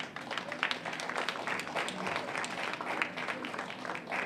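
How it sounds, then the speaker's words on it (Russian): Audience applause at a tango festival in Moscow as competing couples circle the stage: a continuous wash of many hands clapping, moderately loud and steady throughout. "Я прошу под ваши аплодисменты пары сделать круг по сцене, чтобы судьи смогли увидеть ваши номера."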